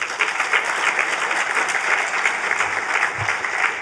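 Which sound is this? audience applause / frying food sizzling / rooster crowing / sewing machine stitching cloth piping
audience applause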